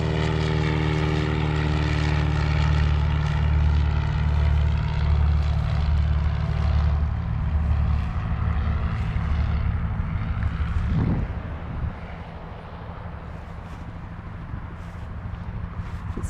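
A small white and blue propeller plane drones loudly close by on a grass field at Creve Coeur Airport, its engine a steady low buzz that eases off and fades somewhat toward the end, with wind buffeting the microphone.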